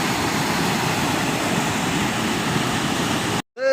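Steady roar of a waterfall and stream rushing without pause at a small dam in Narabung, broad and close, cutting off abruptly near the end.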